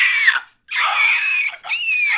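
Dragons in the Shang-Chi movie let out long, piercing screeches in three drawn-out bursts separated by brief gaps, loud and shrill, with no talk.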